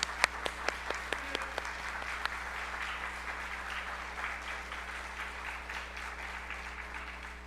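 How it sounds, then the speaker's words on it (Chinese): A church congregation at Sunday worship in Kaohsiung applauds a visiting arts troupe, steady massed clapping that sounds soft and somewhat distant in the hall, with a few sharper individual claps standing out at the start. "鼓掌呢，感谢他们。"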